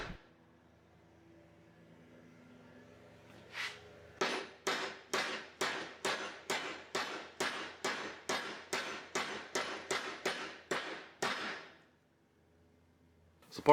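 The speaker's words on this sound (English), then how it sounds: "drive that center sleeve the rest of the way through" Steady hammer blows drive a center sleeve into a vehicle leaf spring bushing during a front-end lift, about seventeen sharp, evenly spaced metallic strikes, loud and close, after a brief tap and quiet start, with no talk.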